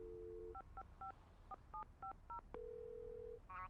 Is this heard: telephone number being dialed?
yes